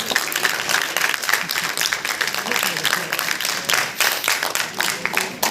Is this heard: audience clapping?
yes